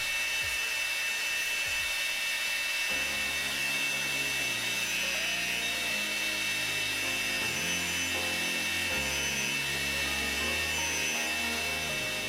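A steady high-pitched grinding whine runs throughout, with the pitch shifting slightly as the edges of a Damascus knife blade are pressed against a running belt grinder, continuous and close.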